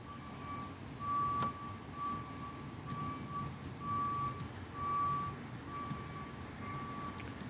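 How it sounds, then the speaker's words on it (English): A tow truck climbs a hill toward a single-car crash scene in Boston, its steady reversing-style beeps repeating at an even pace over a low, constant road and engine rumble. "I think that could be the tow truck coming up now"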